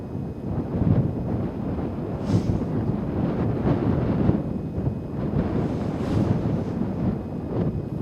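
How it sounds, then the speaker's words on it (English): Steady gusty wind at an outdoor shooting range buffets the microphone, a continuous loud roar swelling and easing with a few stronger gusts, no voices. "Pretty good wind blowing there too."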